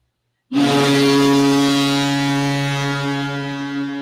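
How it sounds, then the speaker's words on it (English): A single loud, deep foghorn blast starts abruptly after a moment of silence and holds steady and sustained, fading slightly toward the end, with no other sounds. "That is the foghorn."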